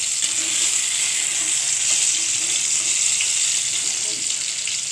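Eggplant slices fry in hot oil with a loud, even, hissing sizzle that runs throughout, close and uninterrupted, with no speech.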